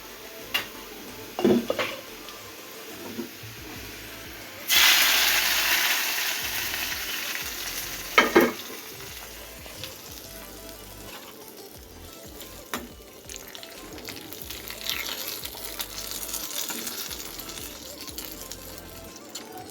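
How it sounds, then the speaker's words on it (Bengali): Jackfruit curry frying in oil in a pan while being stirred: a steady close sizzle that swells loudly partway through, with occasional scraping and clinks of the spoon against the pan and no talking. "এই তো রান্না করে নিচ্ছি কাঁঠাল রান্না।"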